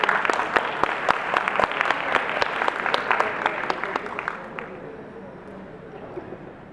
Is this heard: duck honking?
no